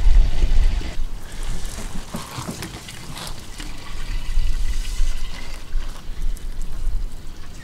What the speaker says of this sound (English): All right, and finally dumping the tank.